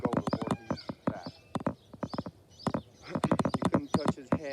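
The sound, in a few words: horse hooves clip-clopping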